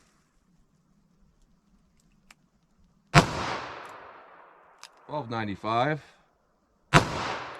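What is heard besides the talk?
22 Magnum shots from a Ruger LCR revolver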